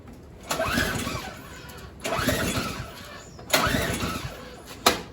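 A small engine with the choke on and freshly primed is cranked three times in a row, each pull a short loud whirring turnover that fails to catch, followed by a brief final sharp pull.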